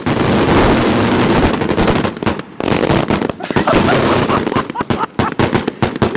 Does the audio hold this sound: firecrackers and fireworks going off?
yes